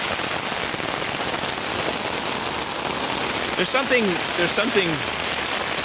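Steady rain patters loudly on a surface throughout, with a person speaking briefly over it near the end.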